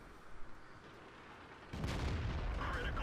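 Tank cannon fire in the World of Tanks video game: after a stretch of low rumbling battle ambience, a loud boom lands partway through and leaves a sustained, heavy roar.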